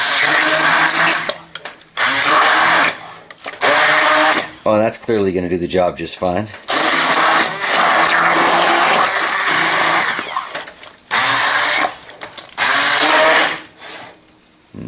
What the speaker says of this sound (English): Just got a little hand blender.